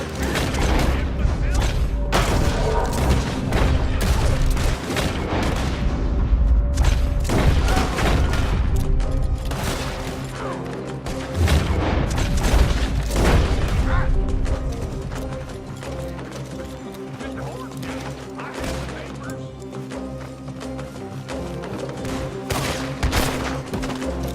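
Gunfire in a Red Dead Redemption 2 shootout against gunmen, with dense booming shots and clattering action sounds continuing under game music and effects, loud and busy throughout.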